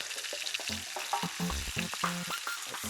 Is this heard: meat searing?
yes